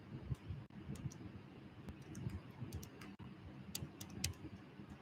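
A for loop being typed on a computer keyboard, quick close key clicks in an uneven run of taps over a low room hum.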